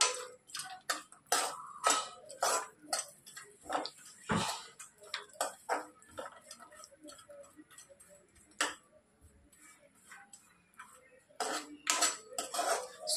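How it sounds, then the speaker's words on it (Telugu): Dry fruits for laddu fried in a pan over a low flame, giving irregular clicks and rattles as the pieces are stirred and knock against the metal, close by and with no talking. "సిమ్లోనే పెట్టేసుకొని ఫ్రై చేసుకుందాము"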